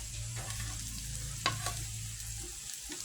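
Onion, garlic and ginger paste sizzles in a hot pan while being stirred, with a soft steady fry and a couple of brief scraping knocks from the utensil.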